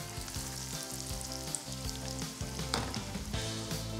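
Food frying in hot oil inside the video game Wanted: Dead, a steady crackling sizzle that fills the whole stretch at an even level, with a low musical bed running underneath and no talking.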